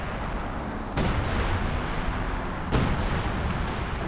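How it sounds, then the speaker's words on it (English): Heavy artillery fire in Company of Heroes 2 during a 3v3 match, two sharp booming impacts a couple of seconds apart, each followed by a rolling rumble over dense battlefield noise. "That's major artillery, isn't it?"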